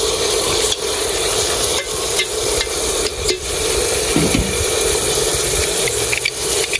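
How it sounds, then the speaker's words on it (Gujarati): Tomato pieces go into hot oil for a Gujarati green pigeon pea and tomato curry and are stirred, a loud continuous sizzle broken by scraping and knocking of a spoon against the pan. "તો આપણે ટમેટાની કટકી નાખી રહ્યા છીએ."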